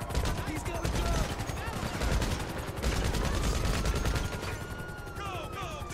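Gunfire in a video game shootout, dense rapid bursts of shots that run continuously and loudly, with voices shouting over the shooting.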